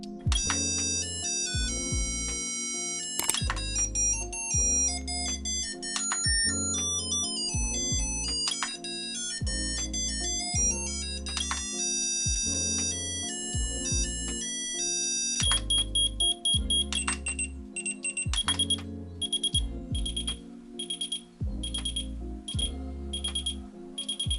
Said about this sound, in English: you can choose 8 different alarm sounds from the list.